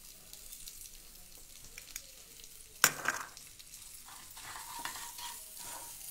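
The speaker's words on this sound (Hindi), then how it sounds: "हमने बिल्कुल लो फ्लेम पर सूजी को भूनना है।" Semolina roasts in ghee over a low flame with a faint, soft sizzle, broken by a sharp clink and scraping stirring sounds near the middle.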